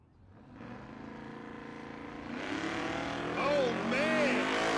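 Supercharged and ProCharged LS drag cars launching side by side at Tulsa Raceway Park, engine roar swelling steadily louder with rising whining tones of the blowers toward the end.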